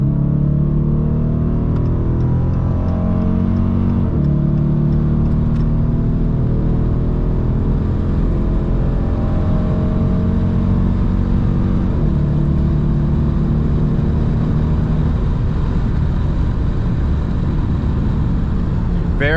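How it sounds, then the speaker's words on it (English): A 2019 Dodge Challenger R/T under full-throttle acceleration, a loud, close engine roar with rising harmonics over a steady road rumble, with a shift-like break near the start and faint talk underneath. "We're gonna floor it here one more time just because we can"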